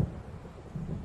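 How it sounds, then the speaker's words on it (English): Low rolling thunder from an approaching storm in the video game Alan Wake Remastered, a brief deep rumble with wind-like noise and no voices. "It seems there's a storm coming."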